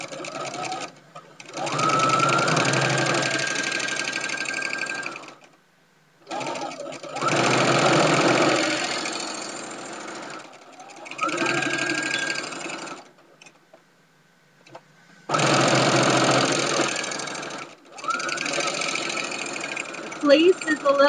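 A sewing machine stitches tags onto a fleece tag blanket in five long whirring runs separated by short pauses, loud and close, with a voice talking between the runs.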